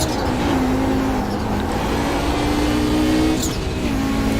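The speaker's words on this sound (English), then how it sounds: "you can hear as he gets harder on the gas, gets a little bit louder, and the car just really accelerates" In-car sound of an Audi 90 GTO race car at Sebring in a racing video game, a loud, continuous engine note climbing steadily in pitch under acceleration, with a brief shift and renewed climb near the end.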